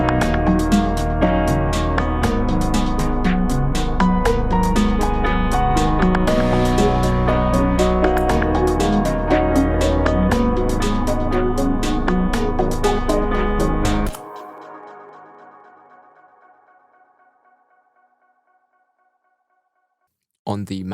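Halftime sequencer melody layered with piano and the Eden instrument in a Cubase production, dense and steady for about fourteen seconds before fading into a long decaying tail and silence, with a brief new burst at the very end.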